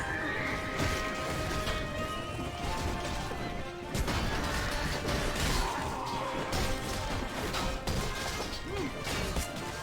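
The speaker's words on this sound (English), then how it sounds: "Oh, they got my horse." A horse whinnies amid a busy Mount and Blade: Warband battle soundscape of crashes, clatter and battle noise, with steady dense background sound throughout.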